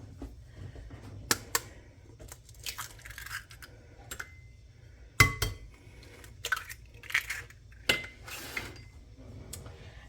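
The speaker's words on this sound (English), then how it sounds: "now we are going to mix in our eggs, and it calls for 2 eggs" Batter for a Hawaiian wedding cake gets stirred in a bowl, with scattered scraping, clinks and wet slaps of utensil against the bowl, close and irregular, with no talking.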